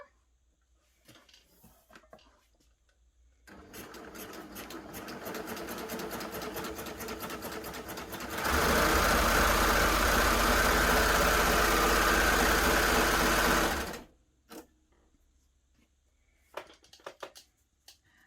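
A baby lock Gloria combination sewing machine sews a safety seam, whirring steadily and then rising to a louder, faster hum for several seconds before stopping. Light clicks and handling noises come before and after the run.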